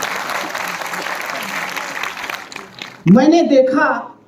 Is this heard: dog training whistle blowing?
no